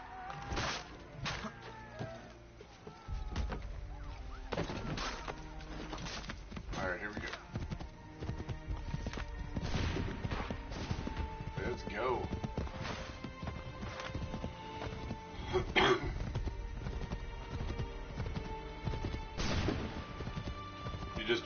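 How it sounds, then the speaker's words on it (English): Galloping horse hooves clip-clop steadily through a busy Assassin's Creed III Remastered game soundscape, with crashes and thuds, occasional whinnies, and voices talking over the action. "Take that horse, Reverend Hungedo."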